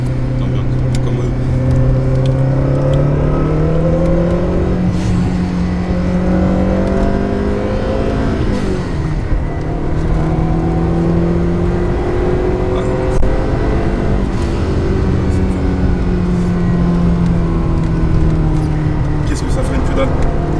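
A Fiat 500 Abarth accelerates hard from inside the cabin, its engine note climbing through the gears with steady rising drones and a brief dip at a shift, loud and continuous, while occupants talk over it.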